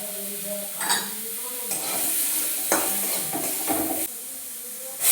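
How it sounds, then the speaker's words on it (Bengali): Mango pieces with a dried chilli and five-spice seeds fry in oil in a wok, a bright sizzle broken by several spatula scrapes and stirring bursts, loudest near the end. "কড়াতে একটু তেল দিলাম, এর মধ্যে একটু 5 ফোড়ন, একটা শুকনো লঙ্কা আর আমগুলো দিয়ে দিলাম"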